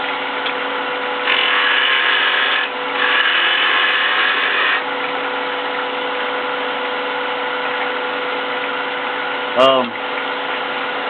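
Wood lathe spinning a wooden finial as a tool cuts it, a steady motor hum with bursts of louder cutting and a brief rising whine near the end, heard throughout at close range.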